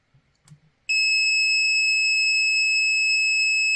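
PeakTech P 1073 multimeter in continuity mode giving a loud, steady high-pitched electronic beep that starts abruptly after a few faint clicks and holds unbroken to the end.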